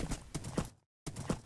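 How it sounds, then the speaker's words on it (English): Hooves clip-clop in a quick, even rhythm as a horse is ridden in a Minecraft-style live-action animation, with a brief dead-silent gap partway through. "let's ride the horse"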